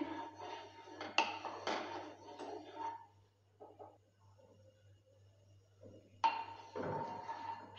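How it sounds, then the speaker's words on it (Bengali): Ladle scraping and clinking around a pan while spreading heated mustard oil for a gram-flour okra dish, quiet scrapes and metallic taps in two bursts separated by a near-silent pause over a low hum. "হাতার সাহায্যে চারিদিকে ছড়িয়ে দিচ্ছি।"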